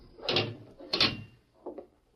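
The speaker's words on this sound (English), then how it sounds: "I'll have to close the door on you." A jail cell door closing as a radio drama sound effect: a few heavy clanking knocks, two strong metallic bangs followed by a lighter third one, close and distinct with no voices.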